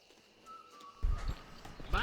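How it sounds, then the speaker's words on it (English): Horse hooves clip-clop in Red Dead Redemption, a quiet few seconds giving way to a short run of close hoof strikes over faint background sound. "Esse cavalo podia ser meu, né?"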